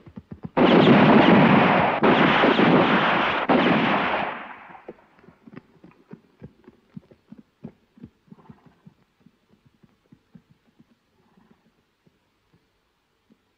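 Gunfire in a Terence Hill Western action film erupts as a loud, dense burst lasting about four seconds, then fades into faint, scattered clicks and soft thuds.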